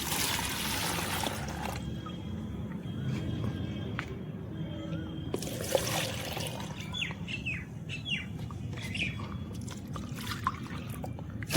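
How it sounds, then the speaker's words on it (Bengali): Liquid fertilizer and rice-soaking water being poured back and forth between containers, giving bursts of splashing trickle separated by quieter gaps, with faint birds chirping in the background. "এগুলো ভালো করে মিশিয়ে নেওয়ার জন্য আমি একবার এপার ওপার করছি"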